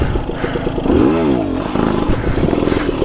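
A KTM 300 two-stroke dirt bike with the rear wheel locked up in a burnout, its engine revving hard and rising and falling in pitch over a gritty clatter of spinning tire and scraping dirt, loud and close.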